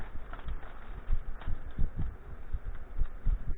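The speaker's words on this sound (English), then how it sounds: "Sorry about the fan in the background there" Steady electric fan hum fills the background with broadband whir, overlaid by soft irregular low thumps of handling nearby; no one talks.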